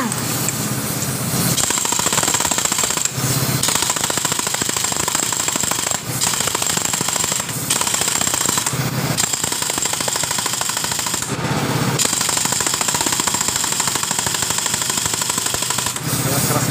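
Rough, harsh mechanical knocking from the CVT of a Honda Beat scooter with a worn, loose roller housing, running continuously and loud, a dense rattling grind with brief dips.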